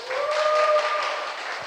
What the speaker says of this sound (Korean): 박수 소리는 거의 100명이 이 자리에 모인 수준이라고 생각하겠습니다